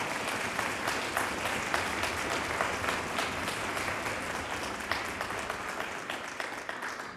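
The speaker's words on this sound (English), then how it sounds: "So let's just give them a big round of applause." A concert audience gives a youth orchestra at a holiday musical celebration a steady round of applause, dense close clapping that holds throughout and fades slightly near the end.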